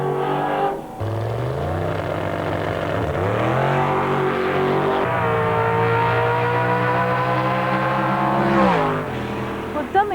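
A drag racing car launches down the strip, its engine note rising in strong harmonic sweeps through gear changes, loud and close, then dropping away near the end.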